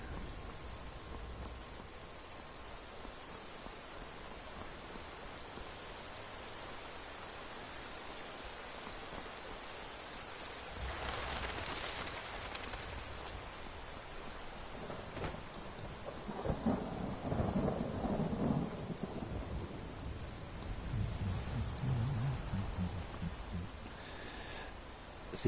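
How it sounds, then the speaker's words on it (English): Rain and rolling thunder in the Skyrim game world, with a steady downpour throughout and a loud thunder crash near the middle followed by deeper rumbling later, no talking. "it's really raining this tonight"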